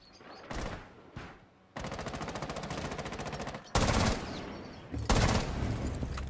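Rapid automatic gunfire rings out in a video game, landing as several loud bursts: a few short taps, then long sustained volleys broken by brief pauses.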